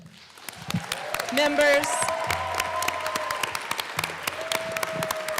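Members of the Colorado House of Representatives applaud during a legislative session, a steady wash of many hands clapping in a large chamber, with a speaker's voice over it and a few tonal sweeps along the way.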